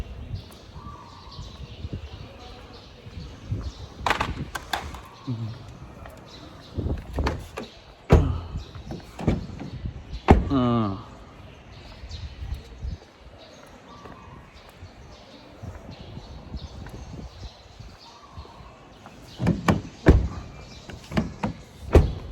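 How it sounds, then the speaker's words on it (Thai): A door of a white Isuzu pickup at a dealership swings shut with a firm slam amid other thuds and clunks nearby, with people talking intermittently around it. "เดี๋ยวมาปิดประตูไอ้คันนี้ก่อนไอ้คันสีขาวที่เปิดก่อน"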